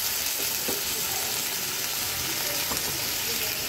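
Spice paste frying in a pan for a fish curry with potato and cauliflower, a loud steady hiss of sizzling after a little water goes in, with faint clinks of stirring.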